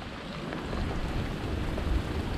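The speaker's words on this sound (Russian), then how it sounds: "дождь сумасшедший." Steady, dense rain hiss on a rooftop tent, loud and continuous throughout, with a slight swell partway through and no voices.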